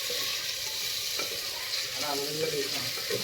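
A pan of chicken curry is stirred while it fries, with a steady broad sizzle and scraping stir strokes that sound close and fairly loud, with no talking.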